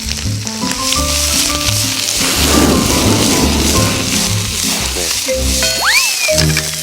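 Mussels dropped into hot garlic oil sizzle and spatter loudly and close up, a dense crackling roar like heavy rain. Low rumbling and a rising whistle-like tone near the end sit under the frying, with no talking.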